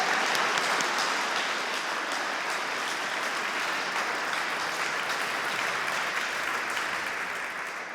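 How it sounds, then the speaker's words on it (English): Audience applause for award nominees at a teaching and learning conference award ceremony: steady, dense clapping from a large crowd that holds evenly throughout and tapers slightly at the end, with no voices. "Let's give a round of applause to all of our incredible nominees"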